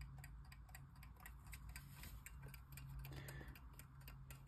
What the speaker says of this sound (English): this is a single bell wind up alarm clock